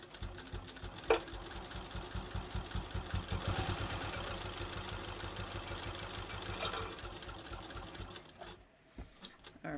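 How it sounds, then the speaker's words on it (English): A sewing machine stitches down the side of a decorative welt pocket on a bathrobe, running in a fast, even rhythm for several seconds before stopping, then giving a few short bursts. "I'm going to stitch down the other side"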